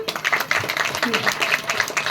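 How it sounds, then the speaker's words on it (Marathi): Women in a Marathi poetry audience clap loudly and energetically in a short, continuous burst of applause, with voices faintly audible in the crowd. "अशा जोरदार टाळ्या वाजवतात"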